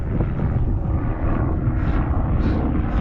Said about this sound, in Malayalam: മോനെ ഒരു മഞ്ഞ ഹെലികോപ്റ്റർ അങ്ങ് വരുന്നുണ്ടല്ലോ